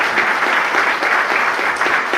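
A church congregation applauding, dense sustained clapping from many hands filling the room evenly throughout, with no voices standing out.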